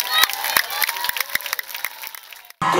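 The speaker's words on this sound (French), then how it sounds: "on les applaudit très très fort." An audience applauds a dance show, with dense, close clapping and some crowd noise that runs for a couple of seconds and then breaks off abruptly.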